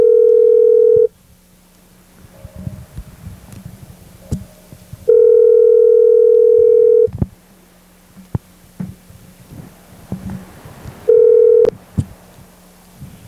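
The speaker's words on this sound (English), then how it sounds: "Now we're calling Freddie, the producer" Loud, steady telephone dial tone sounds three times, broken by clicks and short tapping noises as a call is dialed between the tones.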